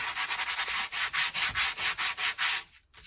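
A sanding block scrubs rapidly back and forth over the edges of decoupaged paper, a close, rhythmic raspy rubbing of about a dozen strokes that stops near the end.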